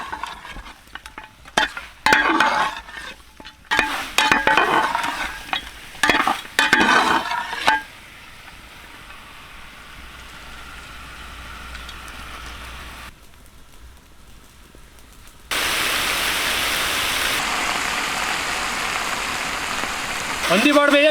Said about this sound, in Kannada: ಶುಂಠಿ ಬೆಳ್ಳುಳ್ಳಿ ಪೇಸ್ಟಲ್ಲಿ ಹಂದಿ ಬಾಡು ಚೆನ್ನಾಗಿ ರೋಸ್ಟ್ ಆಗಬೇಕು.